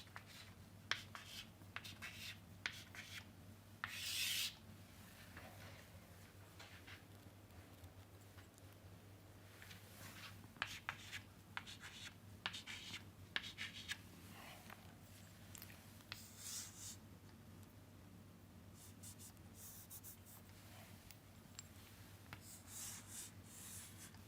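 Pen scratching and rubbing on paper while a switch state diagram is drawn, a long run of faint, irregular strokes and taps under a steady low hum, with no one talking.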